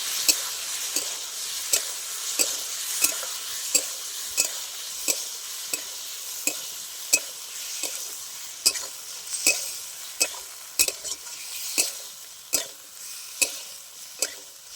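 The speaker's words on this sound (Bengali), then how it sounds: "এবার ম্যারিনেট করা মাছটা দিয়ে দিচ্ছি। এবার খুব ভালো করে কিছুক্ষণ আমি কষিয়ে নিই।" Marinated kuchia (eel) fish stir-fried with lightly fried onions in a pan, steady sizzling with regular scraping strokes of a spatula repeating about every half second, close and clear with no talking.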